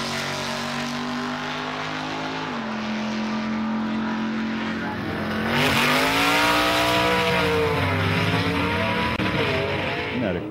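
A 1960s super stock drag racing car at Roanoke Dragway in Virginia rumbles close by with a steady idle, then its engine revs up loud and rises and falls in pitch through several throttle blips.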